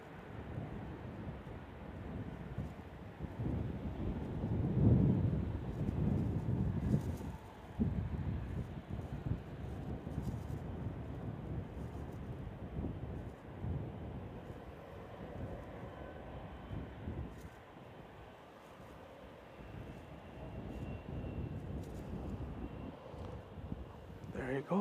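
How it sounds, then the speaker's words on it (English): Boeing 777 heavy jet departing San Francisco International, a distant low roar swelling and fading under wind noise, with a voice talking over it. "Another one making his way for departure."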